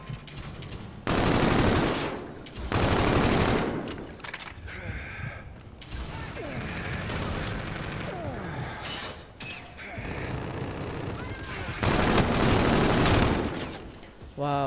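Rapid automatic gunfire from a futuristic combat shooter, Infinite Warfare, erupts in loud sustained bursts alternating with lighter scattered shots and mechanical clatter, close and dense throughout.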